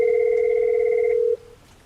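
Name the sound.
telephone call on a Cisco IP phone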